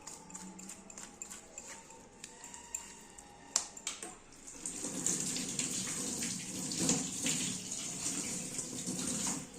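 Tap water runs steadily over a scaled fish being washed in a sink, starting with a few handling clatters and rising into a continuous close splash and hiss.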